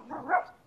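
A dog gives a single short, muffled bark from another room, faint and distant behind an indoor setting.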